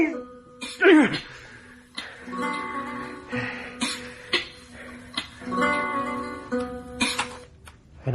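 Repeated coughing from a character in a radio drama, a few sharp bursts spread across the clip under and between dialogue, with other voices speaking nearby.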